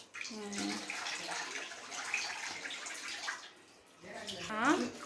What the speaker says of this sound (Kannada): ನೀರು ಜೋರಾಗಿ ಬಿಡಬಾರ್ದು ಮೀನಿಗೆ, ಮೀನಿಂದು ಡ್ಯಾಮೇಜ್ ಆಗಿಬಿಡುತ್ತೆ.